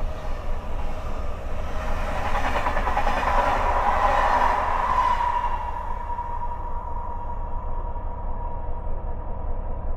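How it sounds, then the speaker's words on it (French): A train of retired RER line E EMI2N sets rolls past a waiting train, a broad rumble and rattle swelling over a few seconds, then fading to a lingering hum. "nous croisons cet acheminement de rames EMI2N de la ligne E du RER"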